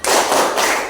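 A group of students in a session claps a short spirit clap together, a single loud, dense burst of hands that fades quickly, with no voices.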